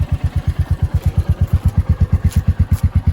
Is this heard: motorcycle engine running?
yes